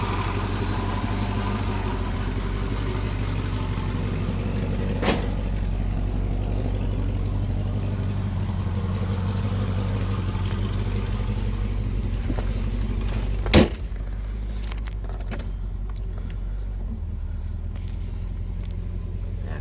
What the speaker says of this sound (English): These cars are so nice with a V8.